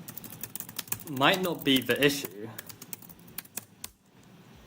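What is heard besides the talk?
computer keyboard typing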